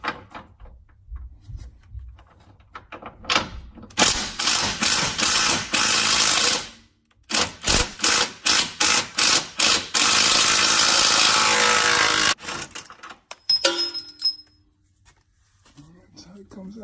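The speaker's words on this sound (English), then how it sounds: "So I got this wrench here, 7/8. Let's set it on top." A 7/8 wrench working a nut on a Jeep Patriot lower control arm, a burst of rapid ratcheting clicks and metallic rattles in loud bursts, then a rhythmic series of clacks, with someone talking at times.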